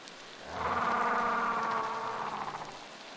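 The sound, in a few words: rain falling in the video game Beasts of Bermuda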